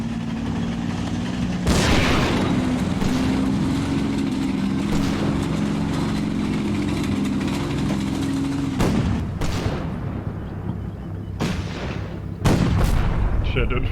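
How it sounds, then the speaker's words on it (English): Tank cannon and infantry gunfire in the WWII strategy game Combat Mission, with heavy booms and sharp shots at intervals over a steady low engine drone, loud and close. "infantry shot something at us"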